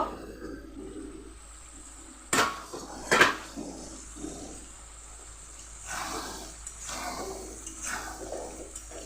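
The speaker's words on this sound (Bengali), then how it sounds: "এখন ঢাকা তুলে নেব" A lid comes off a pot of dried fish cooking with potatoes, vegetable stems and jackfruit seeds: two clanking metal knocks, then quieter scraping and clinks over a low simmer.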